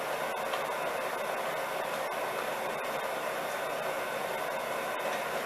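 Electric mixer steadily beating gluten-free yellow cake batter after milk is added, a continuous even whirring hum close by with no talking.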